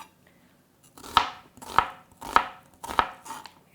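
Knife chopping japchae ingredients on a cutting board: four evenly spaced, crisp close thuds about half a second apart, with no talk.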